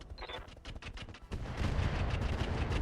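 Mech weapons fire together in an alpha strike in the BattleTech game RogueTech, a rapid volley of overlapping gunfire and blasts that swells into a loud, continuous rumbling barrage.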